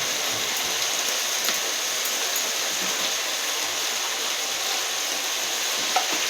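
Fish frying in white oil with turmeric in a home kitchen, a steady dense sizzle that continues evenly and close throughout without pause.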